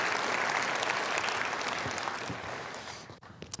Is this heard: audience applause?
yes